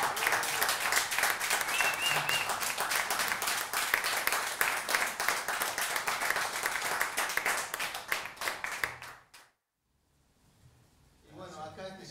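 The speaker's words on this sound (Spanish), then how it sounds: "¡Un aplauso!" Applause from a live concert crowd fills about nine seconds with dense, steady clapping, then cuts to near silence before a faint voice begins to speak.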